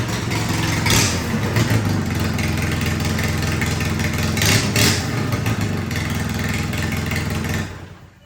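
A Polaris RZR, just jump-started after a transmission repair, runs close and loud with a steady clattering engine rumble, rising with a couple of revving surges as it is driven out a driveway, then cutting off at the end.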